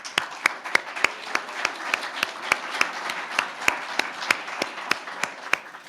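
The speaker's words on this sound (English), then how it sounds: "big thanks and round of applause to them" A small group claps steadily, sharp individual claps standing out in a loose rhythm over softer background clapping, no one talking.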